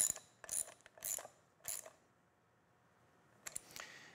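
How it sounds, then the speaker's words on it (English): Socket wrench ratchet tightening a nut onto a bolt while installing a pivoting post base, heard as four loud bursts of rapid clicking separated by short pauses, then a final burst, close up with no talking. "now's the time to take a socket wrench with a size to match the nut"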